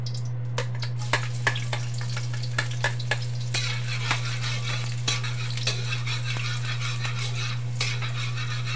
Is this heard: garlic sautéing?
yes